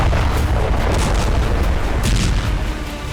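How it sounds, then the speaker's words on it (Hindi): A deep, sustained bomb explosion rumble with a broad roar that holds steady throughout before tapering slightly at the end, with no voices. "जिस बम से महाविनाश होता है"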